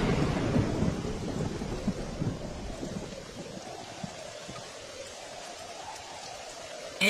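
Steady heavy rain pours down with a low rumble of thunder rolling through, loudest at the start and easing slightly after.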